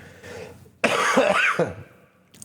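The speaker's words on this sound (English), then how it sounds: "I'm going to cough." A single harsh throat-clearing cough from someone with a cold, close and loud, after a brief quiet moment.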